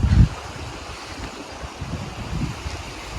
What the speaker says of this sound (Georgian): ეს არის მდინარე თეზამი.